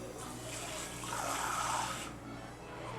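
Water is poured into a small bowl while cooking pasta bolognese with bacon, a soft continuous trickle that rises then tapers off, close but fairly quiet, with no talking over it.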